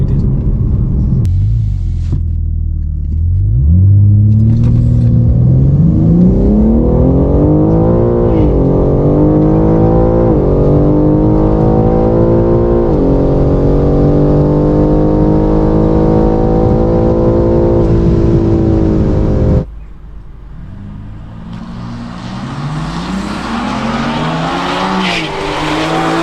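A BMW G80 M3 Competition launches down a drag strip with a loud, close engine roar that climbs through several gear shifts for about twenty seconds, then drops to a lower rumble with a rushing, wind-like hiss.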